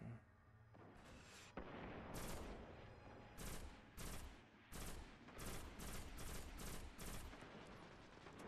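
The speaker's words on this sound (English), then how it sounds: "Pulse rifle, let's give that one a go." Pulse rifle from the video game Destiny firing in repeated short bursts, loud sharp cracks spaced through the scene over a steady background of game ambience.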